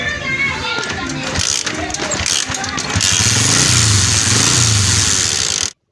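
Honda 125 motorcycle with a starting problem being kick-started, clattering and thumping before the engine catches and settles into a steady, loud running note, then cuts off abruptly.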